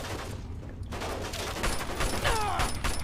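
Turret gunfire in the Fallout 3/New Vegas video game, a rapid burst of repeated shots rattling loudly amid other in-game combat effects.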